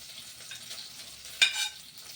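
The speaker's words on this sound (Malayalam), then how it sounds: "വെള്ളം ചേർത്ത് നന്നായിട്ട് വഴറ്റുന്നു" Dried chillies, garlic and ginger with curry leaves sauté in a pan, making a soft, continuous sizzle broken once by a brief clatter of stirring, with no voices.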